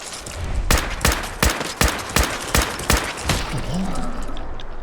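Rapid volley of about eight sharp gunshots from Fallout 4 gameplay, evenly spaced and loud, fired at a legendary Mirelurk, over a steady game background hum, then fading into ambience.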